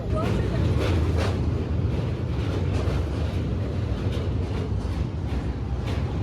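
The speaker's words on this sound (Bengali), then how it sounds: "এখন আমাদের বিধাননগর ঢুকছে আমাদের ট্রেন" A steady low rumble and rattle of a moving train heard from inside a carriage as it enters Bidhannagar station, continuous throughout, with faint voices in the background.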